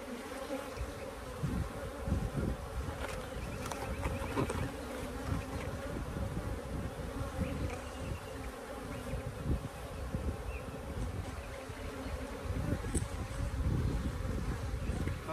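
Honeybees buzz steadily around an open beehive during pre-honey-flow work, a dense continuous hum close by with no talk.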